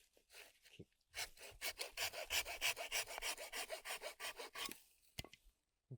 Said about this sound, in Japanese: やっぱり竹を切ったらですね、その場で、地際で、こうやって、